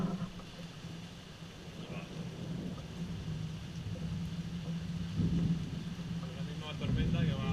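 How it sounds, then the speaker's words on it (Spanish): Thunderstorm at night in Alcocebre, with a steady wash of rain and low rumbling thunder swelling around the middle and end. Voices murmur faintly beneath the storm. "Es la misma tormenta que va."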